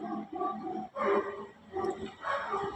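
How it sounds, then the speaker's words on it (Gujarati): A dog gives a few short whimpering barks in quick bursts, fairly close and moderately loud, with brief pauses between. "આ ડોગી આવી ગયો છે અત્યારમાં બિસ્કિટ ખાવા માટે"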